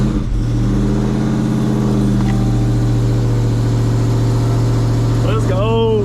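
A Dodge Hellcat running on E85 fuel rumbles loud and close at a heavy, steady idle, then gives a brief rising rev near the end.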